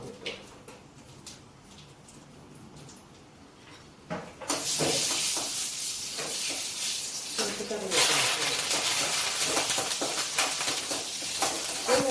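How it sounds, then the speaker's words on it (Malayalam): Mustard seeds spluttering in hot oil for a Kerala mango pulissery curry, a dense bright crackling hiss that bursts in loudly partway through, eases briefly, then surges again and keeps popping steadily. "അവിടെ കടുക് തിളക്കുന്നുണ്ട്"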